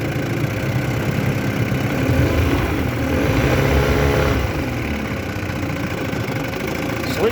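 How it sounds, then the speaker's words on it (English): A vintage Mercury outboard motor idles steadily in neutral, a continuous close, loud mechanical drone with a slight knocking rhythm throughout. "Sweet running motor."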